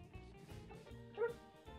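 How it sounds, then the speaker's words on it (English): A dog that has just been woken lets out a few soft, quiet barks and whimpers close by, short and faint. "This is my dog."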